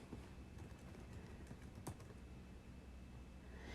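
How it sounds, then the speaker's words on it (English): Typing on a computer keyboard, faint soft key clicks in an uneven run under steady background hiss and hum, one slightly louder tap midway, no talking. "So I'm just going to go ahead and type this in."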